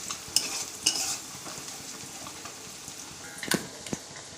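Onions frying in a pan with turmeric being stirred in, quiet low sizzle under several sharp spatula clinks and scrapes against the pan, no one speaking.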